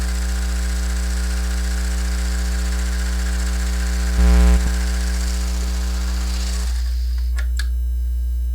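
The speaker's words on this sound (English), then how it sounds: "So I'm going to serge or finish again these two fronts because they are going to be separate." A serger finishes the raw fabric edges of two jeans front pieces, running as a steady, loud mechanical hum with a brief surge partway through before the motor winds down, followed by a few light clicks.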